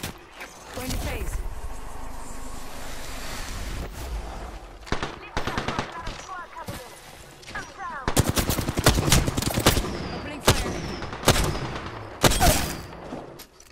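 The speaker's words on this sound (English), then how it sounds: "They're shooting at me." Automatic and single gunfire in the battle royale video game Apex Legends, with bursts of rapid shots mixed with louder close cracks throughout, growing denser in the second half, under game effects and occasional voice.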